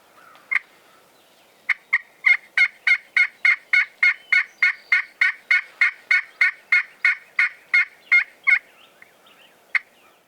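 A wild Eastern turkey gobbles back to a hunter's call in Lookout Valley: a long run of about twenty evenly paced, loud, close gobbles in steady rhythm, with a single isolated gobble before and after.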